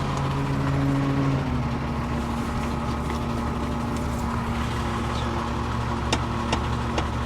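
A diesel engine on a Lorain crane with a sticky throttle runs at a steady, fairly loud idle. Its pitch drops noticeably about one second in, then settles into a constant drone with a few faint clicks near the end.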